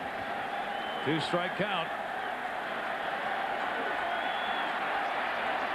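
A large crowd at a 1996 World Series baseball game in Atlanta murmurs and roars in a continuous wash of noise, while an announcer briefly speaks over it.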